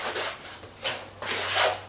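A trowel loaded with tile adhesive spreads it across a wall in repeated close, rough scraping strokes, each swipe a soft rasping rub with brief pauses between.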